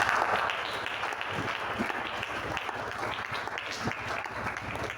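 A church congregation claps and cheers together, a dense, continuous wash of applause from many hands filling the room, with voices faintly mixed in.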